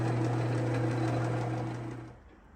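A machine turning a part for handmade springer-fork motorcycle handlebars gives off a steady, loud motor hum with a strong low drone that runs evenly and then winds down and fades out near the end, with no talking.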